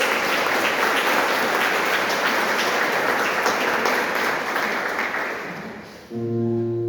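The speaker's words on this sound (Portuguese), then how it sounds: "Vamos dar uma salva de palmas para a palavra de Deus." A church congregation gives a round of applause after a reading from Romans 5, dense continuous clapping from a large group that holds steady, then tapers off over several seconds.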